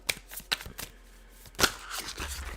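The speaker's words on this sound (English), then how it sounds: "These cards are hard to shuffle." Tarot cards are shuffled by hand, several crisp riffling and slapping bursts, with one louder flurry partway through, close to the listener and with no speech.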